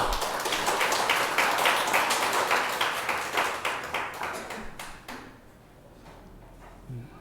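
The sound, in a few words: congregation clapping in church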